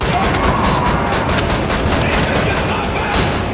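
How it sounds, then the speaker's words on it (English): Automatic shotgun fire in a first-person shooter game, a dense, loud barrage of blasts running continuously with no pauses. "The undisputed king of automatic shotguns has arrived."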